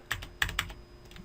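Several keys are pressed on a computer keyboard, the Ctrl and 0 keys, giving a handful of quick, close clicks that fade into a quiet room.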